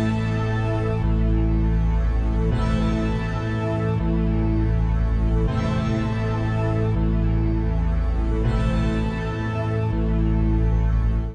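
A slowed-down melody produced in FL Studio with a halftime effect and pitched up 600 cents, playing as a dense, continuous loop of layered tones with a steady low end and no talking.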